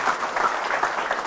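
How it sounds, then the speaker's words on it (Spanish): Applause for the Lord from a congregation at a church retreat, a dense, steady clatter of many hands clapping together, fairly close and without voices over it. "Porque ese aplauso al Señor."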